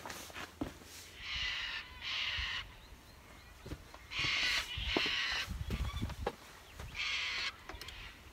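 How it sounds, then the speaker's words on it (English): Birds squawk and call in loud repeated bursts beside a river during outdoor plein air painting, with several raucous outbursts separated by short pauses over quiet outdoor background. "Those birds can really kick up a fuss, can't they?"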